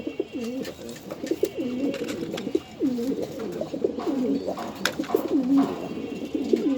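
A pair of red checker club pigeons coo repeatedly at close range, their soft rolling calls overlapping in a near-continuous run, with faint background noise and no speech.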